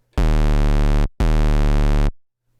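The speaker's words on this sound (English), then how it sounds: "that's what's creating that sort of very rapid drop sound" Two loud 808 synth bass hits, shaped with Logic's Clip Distortion, sound one after the other, each with a sharp attack and a fast downward pitch slide, then silence.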